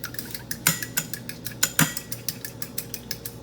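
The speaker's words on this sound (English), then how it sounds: "I'm going to beat them just like that." Eggs beaten in a bowl with a utensil, a quick run of close, rhythmic clinks and taps against the bowl, a couple of them louder than the rest.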